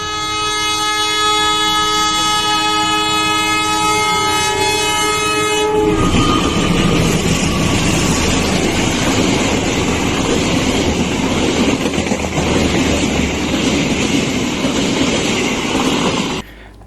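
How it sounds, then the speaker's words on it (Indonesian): A train horn blares loudly for several seconds. Then the train roars past close by with heavy rumbling and clattering wheels until it cuts off. "Ya Allah, ada kereta, ya Allah."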